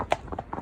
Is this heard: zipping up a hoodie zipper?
no